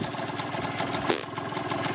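A Yamaha Neos scooter engine runs without its air filter, giving a steady, rapid buzzing idle close by, with one brief hissy burst partway through.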